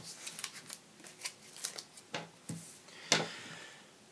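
Cards are drawn one at a time in a Sentinels of the Multiverse card game, giving a series of soft, close, papery flicks and slides with brief pauses between them, ending on a sharper snap.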